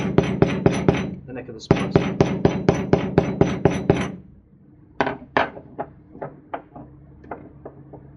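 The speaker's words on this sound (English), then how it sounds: "take a hammer or something and just flatten the tape inside" A rapid series of sharp metallic hammer taps flattening tape inside a Marlowbraid rope splice, about a dozen in quick rhythm, then a pause and slower, lighter knocks while a voice speaks briefly.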